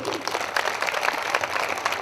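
A church congregation claps vigorously during a sermon, many hands together in a brisk, steady round at moderate loudness with no talk over it.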